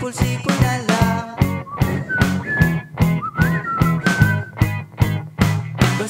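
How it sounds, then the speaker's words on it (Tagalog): A melodic whistle rides over a strummed acoustic song cover, its clear sustained notes gliding between pitches above steady rhythmic guitar strokes, with no singing during the phrase. "Pasipol-sipol na lang."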